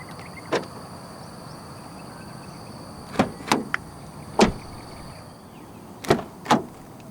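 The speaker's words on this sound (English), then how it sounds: "And to unlock the car, just press the black button again." A 2022 Hyundai Staria 2.2 CRDi Lite unlocks via the keyless button on a front door handle, giving several short, sharp mechanical clunks and clicks spaced irregularly over a quiet background hum; no one talks.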